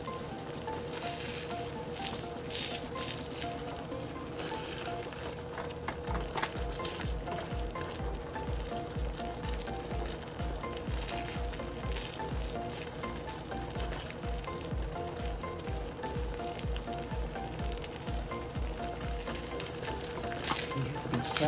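Eggs frying in a mini pan for a breakfast sandwich, giving a steady close sizzle with fine crackling that runs throughout with no talk.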